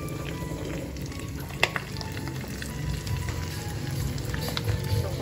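White onions sizzle steadily in hot oil in a pan for bangus sisig, with a sharp clink of a utensil and continuous stirring under the frying.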